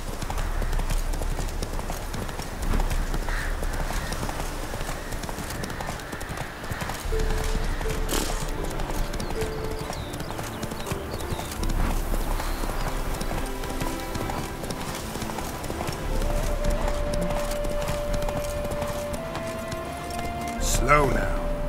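Hooves clip-clop steadily as a horse gallops in The Witcher 3, a constant rhythmic beat beneath game music, with a voice speaking over it and a brief whinny.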